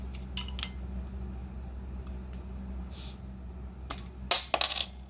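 Metallic clinks and a sharp hiss as a beer bottle cap pops off, followed by a few glassy clatters, close up over a steady low hum.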